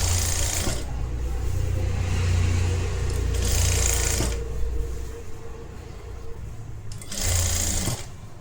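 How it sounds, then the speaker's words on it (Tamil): Sewing machine stitching a round collar on a blouse, a loud close motor whir running continuously with rhythmic needle clatter, rising in short faster bursts between steadier stretches. "இப்போ இந்த மாதிரி ரவுண்டாக ஸ்டிச் பண்ணிகிட்டே போங்க"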